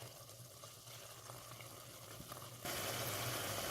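Lean meat sizzles in a pan on a stove set to high, a steady hiss of bubbling liquid that grows louder and brighter toward the end, with no voices.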